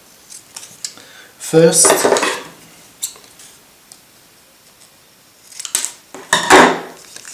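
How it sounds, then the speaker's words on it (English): Scissors snip straight across 35mm film while it is being loaded into an Instamatic camera, making a few crisp close cuts separated by pauses, with a brief spoken word near the start. "you have to cut straight the film and tape it in this orientation onto the take-up spool"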